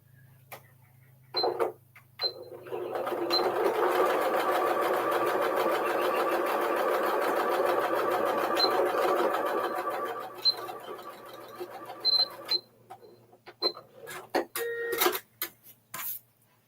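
A sewing machine stitches binding onto a quilt in one steady, fairly loud run of about seven seconds, with quieter handling clicks and rustles before and after.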